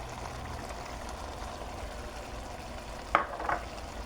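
Ketchup is stirred into a chicken sloppy joe mixture in a pan: a low, steady cooking hiss runs throughout, with a couple of short scraping strokes near the end.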